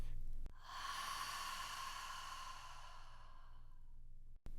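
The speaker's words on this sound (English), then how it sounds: "We will constrict the back of our throat and exhale as if you're trying to fog up a mirror." One long, steady ujjayi exhale is pushed out through the mouth with a constricted throat during a yoga session, a close, breathy hiss lasting several seconds that slowly fades, with no words.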